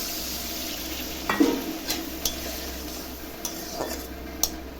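Paneer frying with chili and cumin powder in a pan, with a continuous hiss of sizzling oil broken by occasional scraping and clinking stirs.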